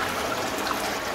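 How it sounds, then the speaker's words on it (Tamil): Freshly cold-pressed oil pours from a machine in a steady, continuous gush, close and even throughout with no talk. "இப்ப தயாரிச்ச எண்ணெயை நம்ம வந்து உடனே இப்ப ஊத்துறோம்."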